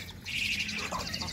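A Javan myna (jalak Hongkong) calls close by, sending out a bright, warbling run of chirps and whistles over a low background hum, with a short second burst near the end.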